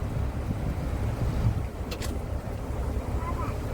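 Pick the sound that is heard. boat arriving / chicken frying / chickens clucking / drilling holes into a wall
boat arriving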